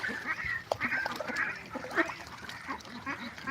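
Ducks on a duck farm quack in a busy, overlapping chorus of nasal calls, close and continuous.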